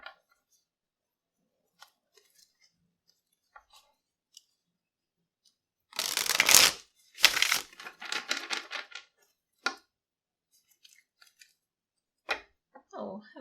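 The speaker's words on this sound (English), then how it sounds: "I'm going to pull 2 more cards for you" Tarot cards shuffled and drawn from a deck in two short close bursts of crisp papery riffling and snapping, with scattered soft clicks of cards being handled in otherwise quiet surroundings.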